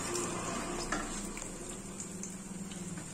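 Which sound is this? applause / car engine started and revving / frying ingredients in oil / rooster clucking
frying ingredients in oil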